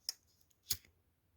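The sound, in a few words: scissors cutting thread for pearl earrings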